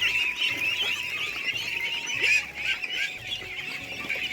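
A flock of ducks being fed freshly cooked rice keeps up a busy stream of honking, quacking calls, close by and overlapping, with faint background hum and no talk.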